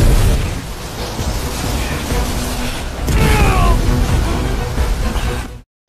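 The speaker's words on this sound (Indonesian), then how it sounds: "ledakan terjadi" An explosion effect from the Perfect World donghua: a rumbling burst of noise with a sharp crack in the middle, followed by a sustained roaring blast with debris-like crackle that cuts off suddenly.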